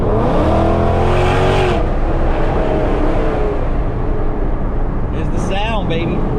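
A Procharged 5.7 Hemi Dodge Challenger R/T accelerates hard with a loud, close roar that climbs in pitch, cuts off abruptly, then rumbles before rising again in a second surge.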